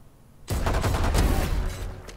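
A burst of rapid gunfire from the Valorant video game, the dense shots starting abruptly and continuing loud and close for about two seconds with no talking.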